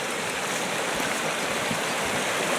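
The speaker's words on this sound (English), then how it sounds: "So just over here you've got the river." River water rushes steadily in a high-country setting, a continuous broadband wash with no breaks, fairly close and even in level, and no voices over it.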